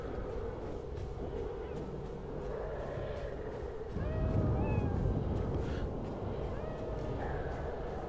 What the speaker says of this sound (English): You can hear the cries from that very fancy cat.